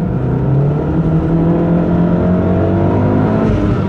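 A 2008 Dodge Caliber SRT-4 four-cylinder engine accelerates hard, a loud, close, sustained interior roar with steadily climbing pitch through the gear, alone without talk.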